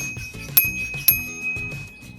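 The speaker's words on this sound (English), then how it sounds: "And this is the bell." A bell on an ADO A20F XE electric bike rings twice with two short, bright dings about half a second apart, close by and fairly quiet.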